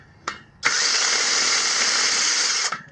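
A power drill bores into a Sur Ron Light Bee electric dirt bike rim, with a brief blip, then a loud steady high whine for about two seconds before it stops.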